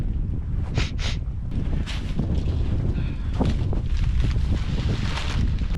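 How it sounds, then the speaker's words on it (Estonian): Strong, cold wind roars steadily through a winter forest at -9°C, with loud gusts buffeting close to the mic and a few sharp bursts, no voices. "Ma tunnen, tuul läheb tugevamaks."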